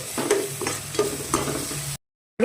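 Cumin powder being stirred into chicken frying in a pan for a spicy chicken fry, with soft scraping strokes over a steady sizzle, then a brief silence before the stirring resumes.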